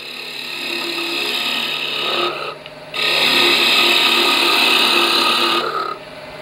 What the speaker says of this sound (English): With the roughing gouge, I'm holding it down, a little bit back this way, down, and turn just a slight amount into the cut.